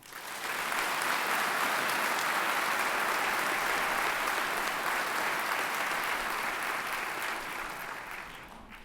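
Sustained applause from a large audience at a correctional officers' Medal of Valor award ceremony, a dense, even roar of clapping that swells in quickly, holds for several seconds and fades at the end.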